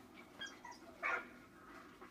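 Dog in the Valiant Hearts video game giving a few soft whimpers and short whines, spaced out over quiet background with one louder yelp near the middle and another at the end.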